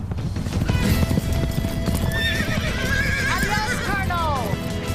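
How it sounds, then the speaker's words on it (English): A horse gallops with rapid clip-clop hooves and gives a loud, drawn-out whinny partway through, heard close over a noisy outdoor action scene. "That's my horse!"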